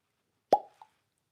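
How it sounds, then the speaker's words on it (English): A cork pops out of a bottle once, in a single crisp, close plop followed by a faint second tap in an otherwise quiet room. "Oh, nice cork pop."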